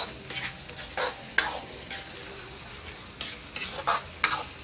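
Spices sautéed for ilosingan, a Bolaang Mongondow dish of beef skin and tendon, with a gentle sizzle under repeated scraping strokes of a spatula and light metallic taps on the pan, close and clear.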